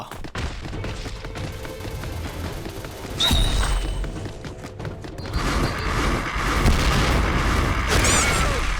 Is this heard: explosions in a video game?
yes